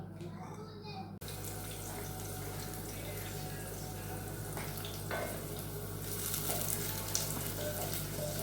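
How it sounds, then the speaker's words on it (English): Onions sizzle and crackle steadily in a hot pan, a continuous frying hiss with occasional pops and a brief change near the start. "I want to fry it just using onions alone."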